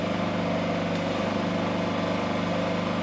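A refrigerator compressor aboard a sailboat runs with a steady, even mechanical hum and a fine rapid pulsing, continuous and fairly close, with no voices over it.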